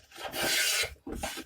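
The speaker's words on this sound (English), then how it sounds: "Just do a couple of shavings on it because they're good shavings." A hand plane shaves clean curls off a wooden board for fitting and dovetail work, giving two close, loud rasping strokes with a short pause between them.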